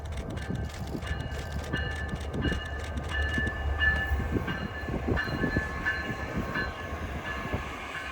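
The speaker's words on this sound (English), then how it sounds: "Here I had a chance to get a southbound Brightline train passing by the Christmas train." A southbound Brightline passenger train rumbles past steadily at close range on the Florida East Coast Railway, wheels clicking over rail joints with a broad continuous roar and faint tonal horn-like ringing.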